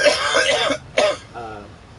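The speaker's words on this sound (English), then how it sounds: "it's my boyfriend coughing" A man coughs and clears his throat in two short, loud bursts close by, followed by a brief faint voice.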